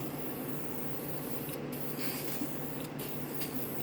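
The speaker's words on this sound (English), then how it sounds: "putting on a light coat first." An aerosol can sprays a light coat of primer onto car rims, giving a steady, close hiss that runs the full length with only brief dips in level.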